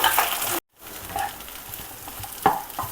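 Cauliflower for gobi manchurian sizzles and crackles in a hot pan while a spoon stirs it, with a brief dropout near the start and a few louder clinks.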